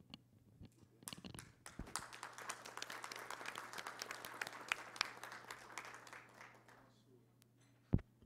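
A meeting audience at a CAU Brasil plenary session breaks into sustained applause lasting several seconds before tapering off, with a final sharp clap near the end.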